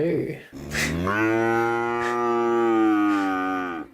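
A single cow moos loudly and close by, a drawn-out bellow of roughly three seconds that swells slightly and then fades, with no voices over it.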